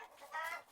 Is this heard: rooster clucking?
yes